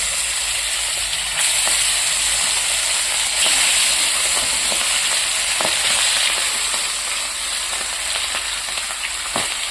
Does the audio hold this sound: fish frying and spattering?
yes